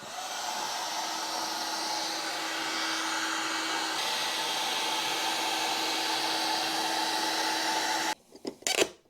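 A heat gun blows on the clear plastic dash cover of a Mazda MX-5 Miata to help pry it loose, a steady whirring hum that cuts off abruptly near the end, followed by brief handling clatter.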